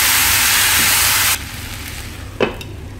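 Long beans being stirred and sautéed in a pan give a loud, steady sizzle that drops abruptly partway through, leaving a softer frying hiss with a brief scrape of stirring near the end.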